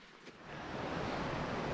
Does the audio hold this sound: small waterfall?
yes